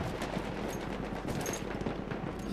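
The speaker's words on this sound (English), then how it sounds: "I can hear a lot of gunfire around me." Dense, continuous Battlefield 1 gunfire, overlapping bursts of automatic weapons and scattered shots, steady and loud with no pauses.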